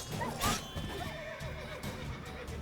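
Horses in The Witcher 3: Wild Hunt whinny loudly up close while hooves clatter underneath, with a second, fainter neigh trailing through the rest of the moment amid game ambience.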